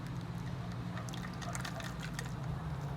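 Cucumber martini mix is poured through a strainer, giving a steady low trickle with scattered soft drips for a few seconds, close and fairly quiet, with no talking.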